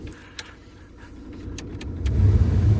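A truck with a cracked exhaust manifold idles as it warms up on a cold 16-degree morning. The engine rumbles low and rises in the last second, with a few clicks and rattles.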